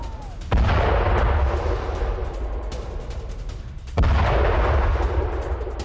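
Two heavy explosions from Israeli air strikes in South Lebanon, one about half a second in and another near four seconds. Each is a deep booming blast that rolls into a long rumbling tail.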